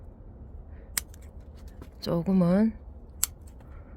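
Garden scissors prune frost-damaged rose stems with two crisp, separate snips a couple of seconds apart, close by. Someone speaks briefly between the cuts.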